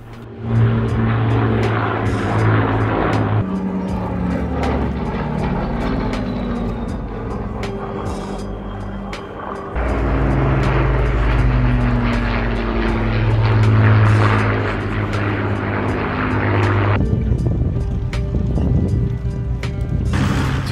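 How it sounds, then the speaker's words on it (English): Second World War propeller aircraft, a Hawker Hurricane, a Lancaster bomber and a Spitfire, drone loudly overhead at an air show, a sustained rumbling engine roar that swells and shifts as they pass. "We have a Hawker Hurricane, a Lancaster bomber, and a Spitfire."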